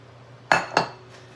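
A spatula scraping the last bits of food out of a dish gives two short, close scrapes with clinks, about a quarter second apart, against an otherwise quiet kitchen.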